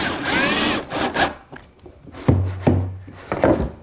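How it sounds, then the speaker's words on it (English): A power drill bores a pilot hole for a stop screw in wood, with short close whirring bursts and brief motor spin-ups separated by pauses. "Now there's the pilot hole for the screw that's going to act as the stop."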